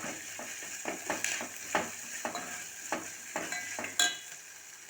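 Peanuts fry in a pan while being stirred, giving rhythmic scraping strokes about every half second over a soft sizzle.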